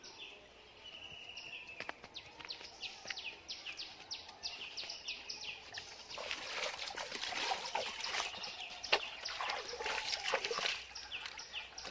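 Kolmi shak leaves being washed by hand in water, with soft trickling and sloshing that grows busier in the second half, under faint bird calls and insect chirps in the background.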